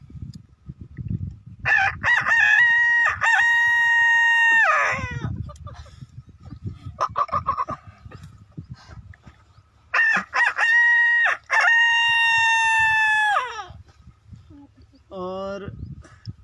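A man imitates a rooster crowing at 4 a.m., delivering two long, loud vocal cock-a-doodle-doo calls close up, separated by a pause and followed by a short clucking tail.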